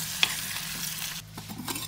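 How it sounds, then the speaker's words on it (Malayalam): Green gram stirred into a homestyle spinach curry in a pan, a brief close scraping and sizzling with a single sharp clink near the start, then softer spoon strokes. "ഈ ചെറുപയർ ചേർത്ത് നന്നായി മിക്സ് ചെയ്തെടുക്കാം"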